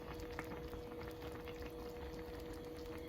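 A pot of vegetable bouillon simmering on a van camp stove, a steady soft bubbling hiss that holds evenly throughout with no voices.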